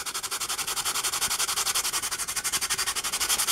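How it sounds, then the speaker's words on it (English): Sandpaper smooths a carved block of balsa foam in fast, even back-and-forth strokes, a close and steady rhythmic scratching with no talking. "sanded smooth"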